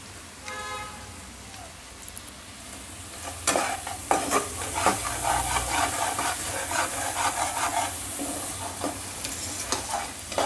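Prawns stirred and fried in a home kitchen pan, giving a steady sizzle with repeated scraping strokes of a spatula, close and fairly loud throughout.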